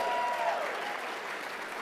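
An audience at a fundraiser auction applauds in a steady, dense wash of clapping that stays close and fairly loud throughout, then fades slightly toward the end.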